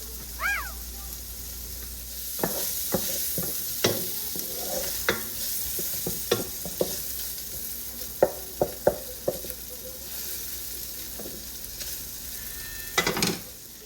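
Garlic and ginger frying in a pan for a Caribbean coconut seafood guisado, with a steady low sizzle and a string of sharp clinks and scrapes from a utensil stirring against the pan.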